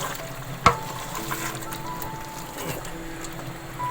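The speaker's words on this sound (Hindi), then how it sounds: "अब इसको मैं अच्छी तरीके से भून लूँगी।" Beef stew with green chilies and tomatoes frying in a pot, a soft, steady sizzle close by, with one sharp clink of a utensil early on and no talk.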